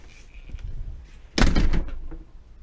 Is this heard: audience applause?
no